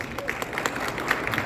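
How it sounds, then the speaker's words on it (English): Brief burst of audience clapping and crowd noise at a VinFast press conference, moderately loud and continuous, with voices blending in under the claps. "Big round of applause, make some noise."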